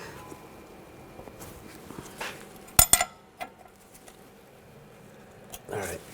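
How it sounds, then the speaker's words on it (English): An 18mm wrench works the sway bar link nut on a 2011-2018 Volkswagen Jetta, making a few sharp metallic clinks and taps, loudest in a brief cluster near the middle, over a quiet background with a voice talking. "I'm going to loosen up the nut for the sway bar link. Use a 18mm wrench."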